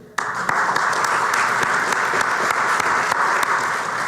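Audience at a clergy-hosted congressional candidates forum bursts into sustained applause, dense clapping starting abruptly and holding steady for about four seconds, with no talk over it.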